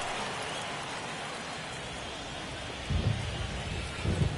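Rain pours steadily on a baseball field in a PS4 baseball video game, a loud continuous broadband hiss with two low rumbling thumps near the end and no talking.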